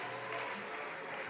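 Big crowd applauding at a pro pickleball semi-final in Melbourne, a steady dense patter of clapping throughout the short stretch, with faint voices underneath.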